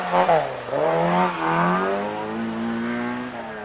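Rally car on the final stage of the 1988 Wicklow Rally, engine pitch dropping as it brakes, then climbing in a loud, close revving surge that settles into a steady high drone.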